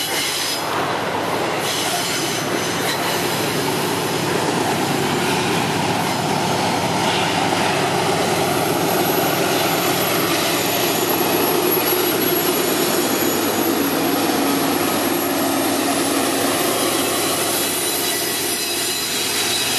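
An MRS freight train with a mid-train Locotrol locomotive climbs a grade at Canguera, its engines droning loudly and steadily for the whole stretch with rumbling wagons and occasional wheel squeal, no talk.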